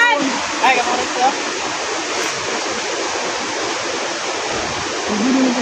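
A waterfall gives off a loud, constant roar of rushing water that fills the scene evenly from start to finish, with faint voices in the background.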